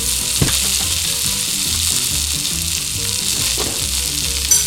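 Fresh-caught tuna sizzles in a hot pan with a steady, close, crackling fry and no voices.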